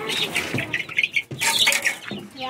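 A group of chicks cheeps close by in rapid, overlapping high peeps, loud and busy with a short pause in the middle.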